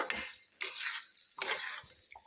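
Potato curry being stirred and sautéed in a pan at home, a few scraping strokes with soft frying in between, close and fairly quiet, no talking.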